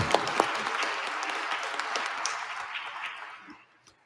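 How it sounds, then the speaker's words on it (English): Audience applause at a community engagement forum panel, a steady dense clapping that holds for about three seconds and then thins and fades out near the end. "Let's give everybody a round of applause."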